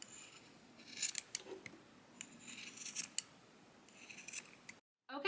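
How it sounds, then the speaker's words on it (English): Scissors trim excess material from a homemade essential oil diffuser with a series of close, crisp snips and scraping cuts, followed by a brief silence near the end. "what I like to do to end it is to just trim off any excess so it's all nice and even all around"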